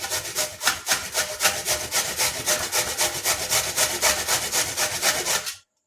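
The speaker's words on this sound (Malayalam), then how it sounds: "ഏറ്റവും ചെറിയ ഇതിൽ ഇത് ഒന്ന് ഗ്രേറ്റ് ചെയ്തെടുക്കണം." An ingredient for a hair remedy is grated by hand, making loud rhythmic rasping strokes at a quick even pace, about three or four per second, that stop abruptly at the end.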